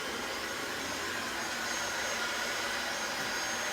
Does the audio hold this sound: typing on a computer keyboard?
no